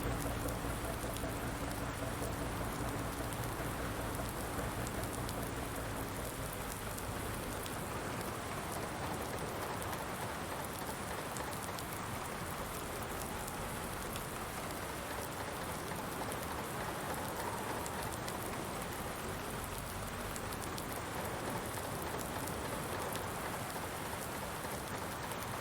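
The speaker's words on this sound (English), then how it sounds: "It is raining." Steady rain patters down in Farming Simulator 19 at a farm, a dense, continuous hiss of drops that stays loud and even throughout, with no voices.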